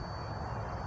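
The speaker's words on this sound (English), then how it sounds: "so now I just started the engine for you" A Subaru Forester SG9 with a high-mileage EJ255 turbo engine idles close by, giving a steady, even rumble with no breaks.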